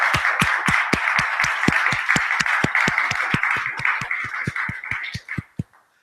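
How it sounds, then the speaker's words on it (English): A conference audience at a 2016 international student conference applauds with steady, evenly spaced claps over a wash of crowd clapping. The applause thins to a few scattered claps and stops near the end. "So give a big round of applause to Katie and Sarah for their work on this."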